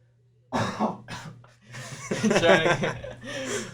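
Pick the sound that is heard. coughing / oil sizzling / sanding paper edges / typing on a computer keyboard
coughing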